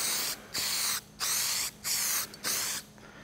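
Four short hissing bursts of Oxytech Easy Phos phosphate coating from a spray nozzle, each lasting about half a second with brief pauses between, close and alone.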